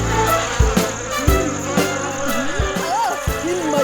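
Mosquitoes buzz in a Hindi cartoon, a continuous insect drone filling the scene beneath a string of brief thumps and cartoon sound effects.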